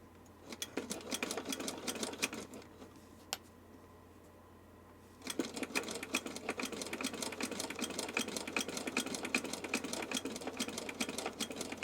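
A sewing machine stitches in a rapid, even clatter up close, stops briefly, then resumes a longer steady run of quick mechanical ticks.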